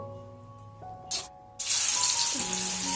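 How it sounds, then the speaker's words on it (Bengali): Spinach snacks drop into hot oil with a sudden loud hiss that settles into a steady, close sizzle of frying, preceded by a short splash and a quiet hum. "তো এবার আমি এগুলোকে এলে ভেজে নেব।"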